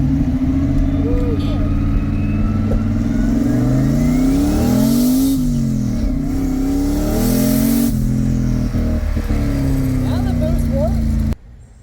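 A drift car lapping a track with an engine that made 7 psi of boost, a loud, sustained engine roar that revs up and down repeatedly, with tire noise and a voice talking over it, cutting off abruptly at the end.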